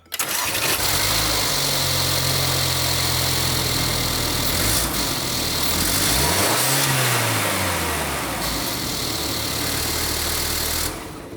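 A 2018 Mercedes Benz GLA 250 engine starts after a spark plug replacement, cranking then catching into a loud, steady idle with a couple of revs up and back down, close up and with no talk.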